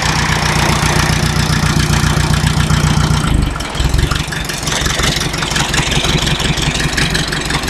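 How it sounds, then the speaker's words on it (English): A warmed-up farm tractor idles during an olive harvest with a close, steady diesel rumble. Its tone shifts and dips partway through, then settles back into a lower, rougher idle. "Let's turn the tractor off now."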